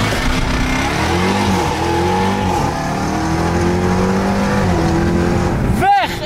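A Volkswagen Polo WRC Street car revs and accelerates away on the street, its engine note rising and shifting through gears, loud and close, with a sharp whooshing pass near the end and voices in the background.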